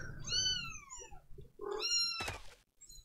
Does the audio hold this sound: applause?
no